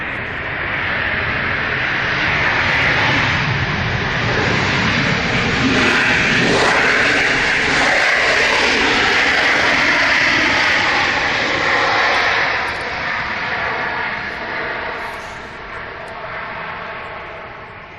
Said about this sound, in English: A380 and it's from London Heathrow to San Francisco.